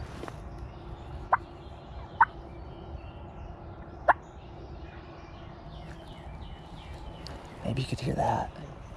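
Wild turkey tom gobbling during a New York spring turkey hunt, several short sharp distant calls at intervals, then a louder, closer burst near the end over steady outdoor background.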